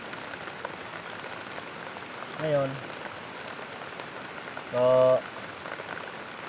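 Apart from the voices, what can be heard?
heavy rain falling by a stream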